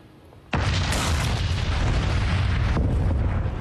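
Mount Pelée's 1902 volcanic eruption on Martinique erupts as a sudden, massive blast after a quiet start, then rolls into a sustained, loud, broadband roar that continues steadily to the end.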